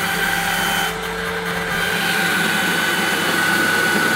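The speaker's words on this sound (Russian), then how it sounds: "Я поменяла насадку и теперь натираю морковь." A kitchen food processor grating carrots whirs steadily with a grating, churning motor hum, loud and continuous throughout with a brief dip in pitch early on.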